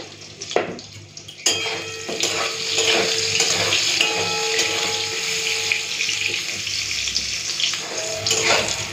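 Eggplant pieces frying in hot oil in a pan for a Bengali fish curry, a steady close sizzle with occasional stirring knocks and clinks, no talking.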